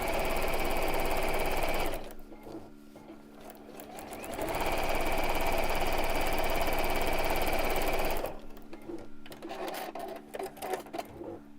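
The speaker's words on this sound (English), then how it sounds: "sew straight across, and I'm going to sew about 1 inch from the end" A sewing machine stitching straight across a fabric seam about an inch from the end, running in two long steady bursts of fast mechanical whirring and clatter, with quieter pauses between them and no talking.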